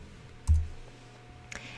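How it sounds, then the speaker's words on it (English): A computer mouse clicks and a keyboard delete key is pressed while editing in Windows Word, giving two quiet, separate clicks about a second apart with no talk. "click on the existing text boxes until the blue square and circle selection boxes appear around its perimeter. Then hit delete on your keyboard."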